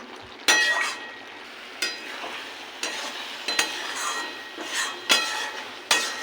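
Ridge gourd and potato curry bubbles down in a pan with a soft, continuous sizzle, punctuated by repeated scraping stirs at roughly one-second intervals.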